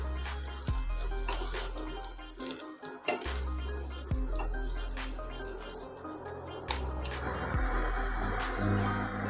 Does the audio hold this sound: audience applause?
no